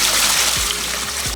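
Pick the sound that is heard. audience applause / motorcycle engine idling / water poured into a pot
water poured into a pot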